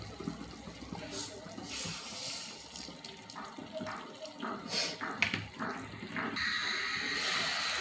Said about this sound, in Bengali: এবার আমি ঝোল দিয়ে দেব